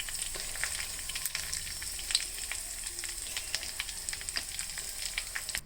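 A pan of curry-leaf tempering sizzles steadily in hot oil as turmeric goes in for a coriander chutney, a continuous close hiss with scattered small crackles and no voices.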